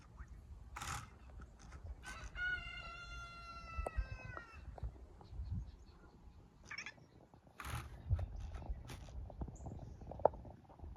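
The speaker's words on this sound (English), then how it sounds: "What do roosters sound like?" A rooster crow played through an Alexa smart speaker: one faint, tinny, drawn-out call heard at a distance within a quiet room, amid scattered knocks and background noise.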